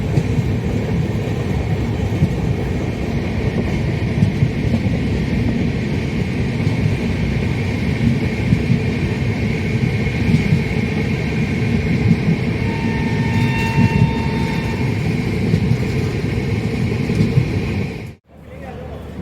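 Passenger train rolling into Naini Junction near Prayagraj on a cold night, a steady loud rumble of wheels and carriage noise throughout, briefly cutting out near the end, with faint voices underneath.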